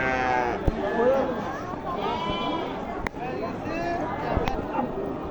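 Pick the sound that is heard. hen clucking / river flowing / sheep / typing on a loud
sheep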